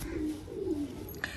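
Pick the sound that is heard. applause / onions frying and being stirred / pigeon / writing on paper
pigeon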